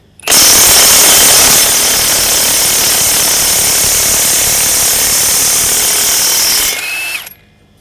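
A Profitek 2100 Nm impact wrench hammers loudly and continuously for about six seconds, loosening a truck wheel nut in a service shop, then winds down and stops.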